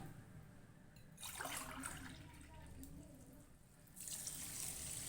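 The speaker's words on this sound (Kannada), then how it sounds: "ಇದಕ್ಕೆ ಒಂದು ಗ್ಲಾಸ್ ನೀರು ಹಾಕ್ಕೊತೀನಿ" A glass of water is poured onto sugar to make syrup for badusha, heard as a soft splashing pour that swells twice over a faint, quiet background.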